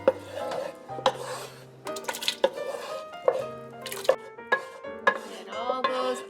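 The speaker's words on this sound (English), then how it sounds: "Now we're going to add all those yummy sauteed veggies into the pot." Sautéed vegetables and onions scraped and tipped into a pot of chicken orzo soup, with clinking utensils against metal, a few knocks and light stirring close by, and brief voice fragments.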